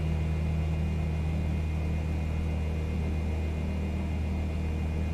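Piston aircraft engine in Microsoft Flight Simulator drones at a steady cruise setting during a flight between Georgetown and Devonport in Australia, a constant low hum with a thin whine above it, unbroken and even with no talk.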